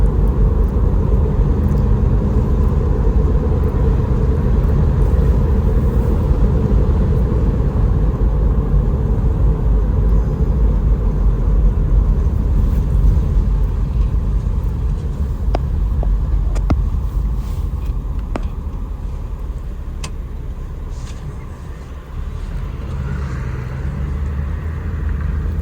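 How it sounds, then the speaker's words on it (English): A 1963 Buick Skylark coupe drives down the road, its engine and road noise forming a continuous low rumble that stays strong and steady, easing slightly toward the end, with a few faint clicks midway. "Gets down the road really nice, and it stops in a nice straight line too."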